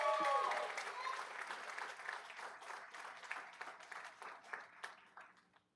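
A school board meeting audience breaks into applause and cheering, loud at first and then fading into scattered clapping over several seconds, with voices mixed in.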